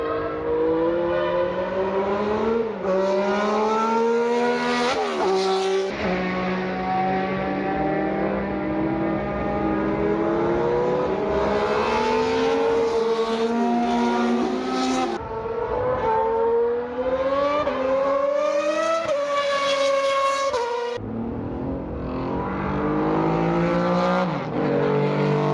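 Historic Formula 1 race cars scream past one after another at Circuit Paul Ricard, their high-revving engines rising and falling loudly in repeated passes and gear changes.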